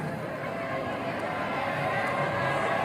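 A stadium crowd at a university opening ceremony applauds the Indonesian Army Chief of Staff, a steady dense wash of clapping and crowd noise held at an even level throughout.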